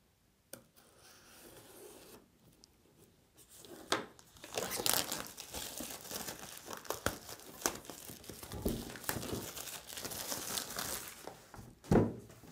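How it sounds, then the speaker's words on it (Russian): A Blackview Tab 8 tablet box is unpacked, with close crinkling of plastic wrap, rubbing and scraping of cardboard, and a few sharper handling knocks, building in loudness as the packaging is opened. "давайте будем распаковывать"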